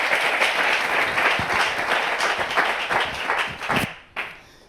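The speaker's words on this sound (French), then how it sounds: "On applaudit très fort." An audience applauds loudly, a dense wash of clapping that fades out toward the end.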